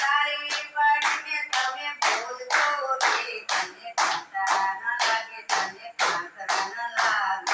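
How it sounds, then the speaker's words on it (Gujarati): Steady rhythmic hand clapping keeps time along with a Gujarati devotional bhajan at a satsang, a crowd of hands striking together in regular, loud beats that run throughout. "એ તાળી પાડીને તમે બોલજો રે"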